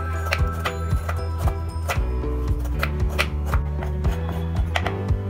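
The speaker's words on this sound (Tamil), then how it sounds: "நான் வந்து கத்தி வச்சு இந்த மாதிரி கட் பண்ணி எடுத்து வெச்சுக்கறேன்" A knife chops through a block of jaggery in a steady series of sharp, close cuts over a continuous backing of music.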